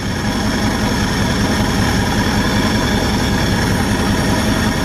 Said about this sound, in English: So watch the engine just start shaking like crazy.